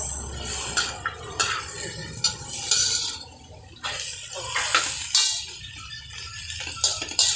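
Something is sautéing in a pan with an uneven rhythm of scraping and clattering from a utensil against the metal, over a soft background hiss, close and moderately loud.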